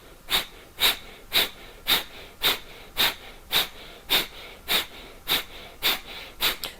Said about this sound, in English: And let's begin inhaling like normal. And then exhale forcefully out.